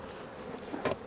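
Honey bees buzzing around a calm colony at an open hive, a soft continuous hum with a brief louder buzz as a bee passes close near the end.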